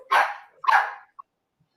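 A single dog barks twice nearby, two loud, sharp barks about half a second apart, then silence apart from a faint click.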